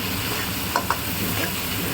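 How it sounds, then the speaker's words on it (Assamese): Ginger, garlic, onion and tomato fry in a pan with added turmeric for a chicken curry, a steady close sizzle with a couple of soft spoon scrapes as the mixture is stirred. "এই আদা নহৰু পিঁয়াজ বিলাহী গোটেইখিনি ধুনীয়াকৈ ভাজি লোৱাৰ পিছত এই হালধি দিছোঁ"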